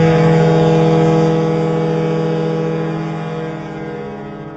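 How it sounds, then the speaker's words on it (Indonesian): Horn of a CC206 diesel locomotive at Kroya station, a single loud sustained low blast with a deep, truck- or ship-like tone that holds steady, then slowly fades over several seconds, with no talk. "Klaksonnya CC206 Dinas Kereta Kamandaka Cilacap kok beda ya? Suaranya malah kayak truk apa kayak kapal."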